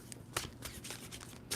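A deck of tarot cards is shuffled by hand in a few quick riffled bursts, soft and close, with short crisp flutters separated by brief pauses.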